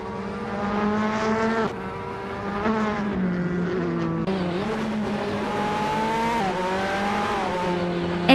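Race cars roar past during a race, a dense, loud, sustained engine drone with rising and falling pitch as several cars rev and shift, continuous throughout with no talk.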